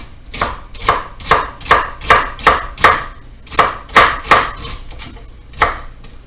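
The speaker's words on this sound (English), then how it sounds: "I'm going to start chopping up my celery here." A knife chops rinsed celery on a cutting board with about fourteen crisp, close knocks in a steady, slightly uneven rhythm, with short pauses between runs and no talking.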